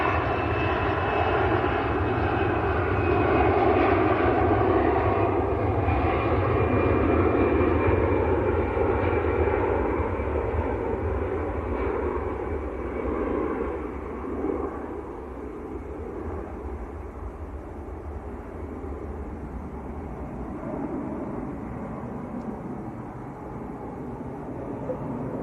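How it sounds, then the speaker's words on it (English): Two Turkish Airlines jets depart Manchester Airport, a loud sustained engine roar with a faint high whine that slowly fades and recedes as the aircraft climb away, no talking over it. "In fact, 2 Turkish Airlines coming out."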